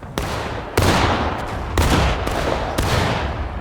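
Musket volleys in the Civil War video game War of Rights crack out as several loud, reverberant bursts of massed gunfire, each rolling away into a long echoing tail, with no voices.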